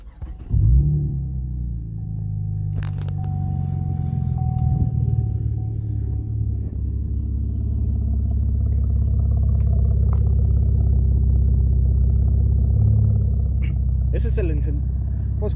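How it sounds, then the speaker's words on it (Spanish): A modified 2014 Chevrolet Camaro engine turns over and settles into a steady low idle, rumbling continuously up close with a few faint clicks and clatters. "Van a querer escuchar cómo se escucha el encendido de mi carro."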